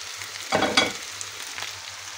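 Potatoes and corn frying in a pan, stirred once: a soft, even sizzle, then a brief scraping burst of stirring, and the quiet frying goes on after it. Close and alone, with no voices.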